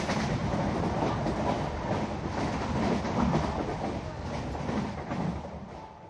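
Vivek Express passenger train running steadily on the rails between Bandra Terminus and Jammu Tawi, a continuous close rumble with faint rhythmic clickety-clack of wheels, heard from inside the coach with no talking.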